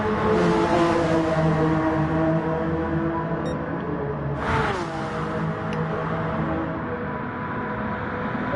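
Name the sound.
Honda NSX Gr.3 race car engine in Gran Turismo video game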